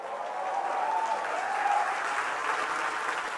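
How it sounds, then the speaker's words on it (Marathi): An audience at a stand-up comedy show breaks into a burst of steady applause, close and full, lasting a few seconds without any talk over it. "टाळ्या वाजवा"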